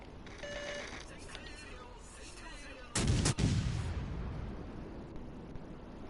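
Naval guns in World of Warships Legends, fired from the Japanese cruiser Mogami, boom in a loud close burst of several shots that rolls off, with game noise and talk beneath.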